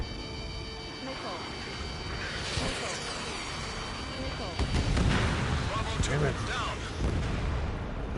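Missile launched and detonating in a PS4 game: heavy booming blasts and a rumbling roar over several seconds, loud and close, with a louder burst partway through and continuous layered noise throughout.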